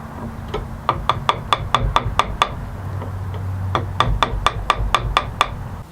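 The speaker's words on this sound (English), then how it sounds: "I'm just going to clean up the tenon with a chisel." A chisel pares an oak tenon in a workshop with a steady run of sharp, evenly spaced taps, a short pause, then another quick series over a low hum.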